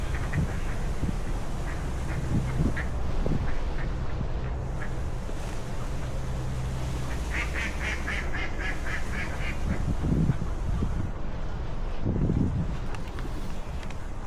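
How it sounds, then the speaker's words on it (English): Ducks quack in several short bursts over steady wind and outdoor noise near Waltham Abbey Church, Essex, heard from a moderate distance. "Hey, ducks."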